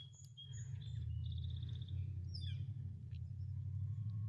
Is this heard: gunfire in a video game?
no